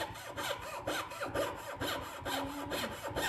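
A scroll saw cuts through wood in a quick, even rhythm of rasping strokes, each one a short bright burst with a mechanical hum underneath, moderately close and with no talking.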